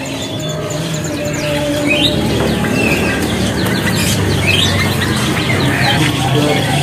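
Many caged songbirds, including sooty-headed bulbuls, at a bird market kiosk, with continuous overlapping chirps, whistles and clucking calls, loud and close, and chatter in the background.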